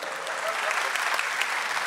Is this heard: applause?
yes